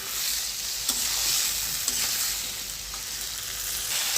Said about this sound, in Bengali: বন্ধুরা খুব সুন্দর করে কিন্তু মশলার সাথে আলু এবং ডিম একদম কষিয়ে নিচ্ছি।